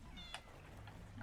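A cat meows faintly, a short high call or two partly buried under a dense background wash.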